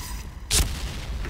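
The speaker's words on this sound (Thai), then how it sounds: "เฮ้ยระเบิดตัดอีกแล้ว" A grenade goes off in the shooter game Point Blank as one sudden, loud, short blast rising out of a low background rumble.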